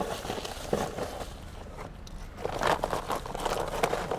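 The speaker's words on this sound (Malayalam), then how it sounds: "ഇതാണ് കൈ കൊണ്ട് ഇങ്ങനെ ഒന്ന് മണ്ണ് ഇളക്കി കൊടുത്തിരുന്നാൽ മതി" Hands loosen garden soil under a layer of dry leaf mulch, giving a continuous close crinkling and crunching rustle that swells and eases over a few seconds.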